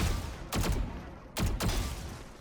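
Gunfire at practice bots in the shooter game Valorant, two separate sharp bursts of shots about a second apart, loud and close, each fading quickly to a quiet background.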